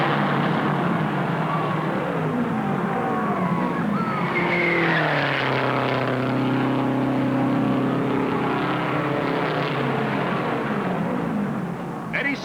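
Race cars roar down the backstretch at the 1960 Indianapolis 500, a loud continuous engine drone with rising and falling pitch as cars pass, under an announcer's commentary.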